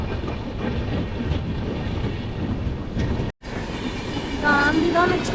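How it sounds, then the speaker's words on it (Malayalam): Gandhidham Express passing near Thrissur railway station, a continuous loud rolling rumble and rattle of coaches with wind noise, a brief cut midway, and a voice speaking over it. "ഗാന്ധിധാം എക്സ്പ്രസ് ആണ് പോകുന്നത്"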